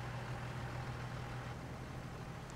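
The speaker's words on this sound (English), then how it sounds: "Let's jump in the tractor here." A tractor engine idles in the video game Farming Simulator 22, a steady low droning hum at an even level throughout with no talk over it.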